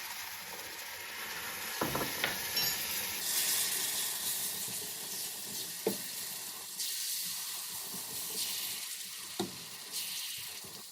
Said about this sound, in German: Alles wird durchgerührt und erwärmt.